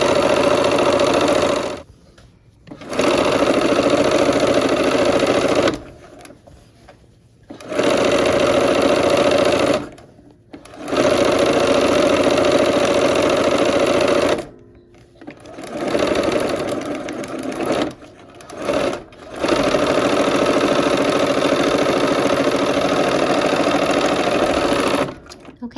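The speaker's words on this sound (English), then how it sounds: "let's sew this sashing piece together" A sewing machine stitches a quilt sashing piece together, running in several long steady bursts with brief pauses between them, loud and close with a continuous mechanical whir.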